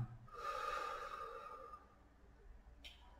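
During a breathing exercise, one slow, quiet breath is drawn in close to the microphone and fades out, followed by a short, sharp puff of air near the end.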